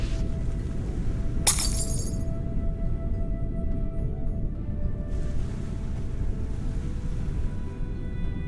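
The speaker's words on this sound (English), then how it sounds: "The bottle's broken into shards of glass." A glass bottle shatters in the point-and-click game Secret Files: Sam Peters, one sharp bright crash near the start that quickly fades, set against a steady low ambient rumble like sea and boat noise.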